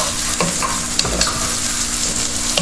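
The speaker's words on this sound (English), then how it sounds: "Saute it a little. Then I am adding some finely chopped habanero chilies." Finely chopped fresh habanero chilies sauté in a wok, giving a steady, close sizzle with stirring scrapes and clicks throughout and no talking.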